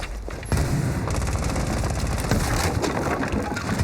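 Explosions go off during a Rainbow Six Siege esports match on the Villa map, a dense, roaring, crackling blast that fills the scene and keeps rumbling for several seconds.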